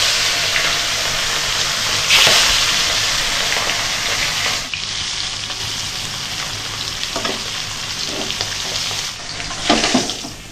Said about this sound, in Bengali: গরম তেলে হালকা করে ভেজে নিতে হবে।